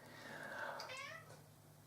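A pet cat lets out a couple of soft, faint meows indoors, one drawn-out and one shorter, close to the microphone with low background hum.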